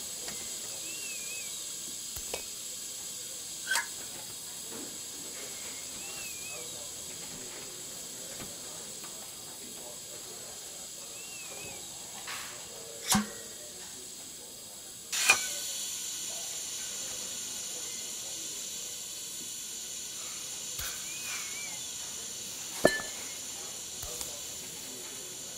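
Steady steam hisses from leaking pipes in the Assemble with Care video game, soft and continuous throughout. Occasional brief clicks and taps are scattered over the hiss, and no voices are heard.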